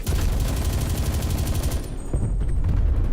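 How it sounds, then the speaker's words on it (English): Rapid automatic gunfire from the Stoner 63 in Black Ops Cold War, a dense, loud fusillade of repeated shots that briefly thins near the middle before firing resumes. "Now we're getting shot in the back."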